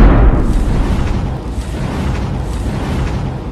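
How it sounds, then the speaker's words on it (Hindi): A loud explosion-like boom opens a comedy cricket sketch, its heavy low rumble decaying into a sustained roar that stays strong for several seconds, with no speech. "ये देखना होगा कि केजू जी इस बॉम्ब को कैसे खेलेंगे"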